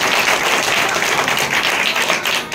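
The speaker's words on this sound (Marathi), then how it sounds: "अरे टाळी वाजवा पंगत शिक्षकांची" Audience members at a religious gathering clap for a row of teachers, a dense, steady patter of many hands at moderate loudness for a couple of seconds.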